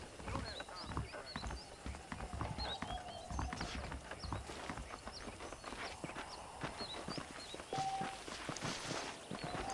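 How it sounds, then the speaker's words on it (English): Horse hooves clip-clop at a walking pace in the Red Dead Redemption video game, steady and fairly close, with a horse whinnying, bird chirps and a voice talking faintly over the outdoor ambience. "The horses are saddled up over here."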